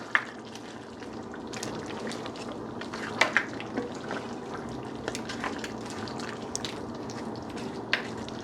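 Sweet pepper and onion being stirred in a stew pot for Jamaican brown stew beef, a low bubbling, wet simmer close by with soft, scattered clinks and splashes of the spoon, steady throughout with no talking.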